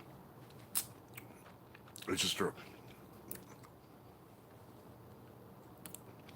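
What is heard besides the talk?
chewing a hot chili pepper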